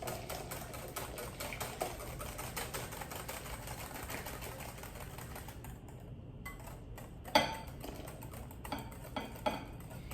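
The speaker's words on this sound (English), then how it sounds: "we're going to whisk vigorously" A whisk beats custard vigorously in a bowl for raspberry-topped crème brûlée, giving fast, even metallic clicking that breaks off briefly partway through, then a few louder clinks.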